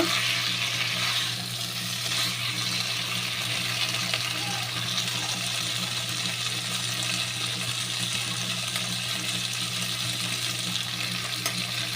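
Winter vegetables fry in a cooked spice paste in oil, giving a steady, even sizzling hiss over a low hum.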